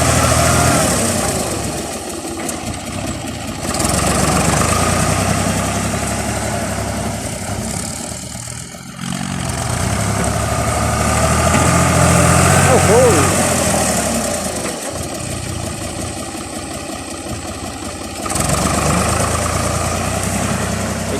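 A Ford 6600 tractor with a manual gearbox pushes up a paddy-field bank in hard soil, its engine droning steadily and close for the whole stretch while someone talks over it.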